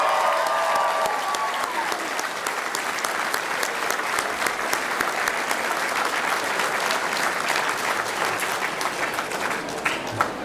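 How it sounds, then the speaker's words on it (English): Sustained applause from a large election-night crowd honoring a newly elected U.S. Senate winner's family, loud and steady clapping with some cheering, continuing without letup throughout. "Let's give them a round of applause,"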